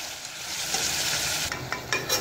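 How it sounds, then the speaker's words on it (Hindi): Chicken for a white korma is stirred with garam masala, red chili seeds and salt, making a broad, close sizzling hiss with a few brisk scraping strokes. "गरम मसाला, सुरख मिर्च के बीज और नमक, और इसे अच्छे से मिक्स कर लूँगी।"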